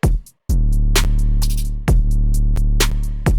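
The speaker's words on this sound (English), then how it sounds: "it's like a really fat 808" Fat 808 bass notes from a K-pop style beat boom low and sustained in a steady pattern, each deep note ringing out before being cut off, with crisp hi-hat and snare hits on top.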